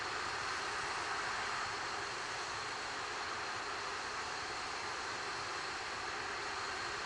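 A United Launch Alliance Atlas rocket with three solid rocket boosters climbs past Mach 3 after launch, heard as a steady, faint, distant broadband roar that holds without a break.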